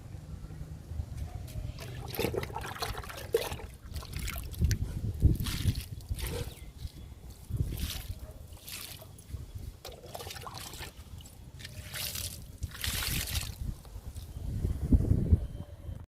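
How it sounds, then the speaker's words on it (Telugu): Liquid fertilizer trickles and splashes from a container onto potted white and pink vinca plants in a garden, in several separate soft pours with quiet gaps between them. "ఈ వింకాస్కి ఇచ్చేద్దాము లిక్విడ్ని"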